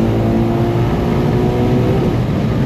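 The V12 engine of a Ferrari Purosangue roars inside a tunnel, a loud, continuous, booming engine note that fills the space with no break.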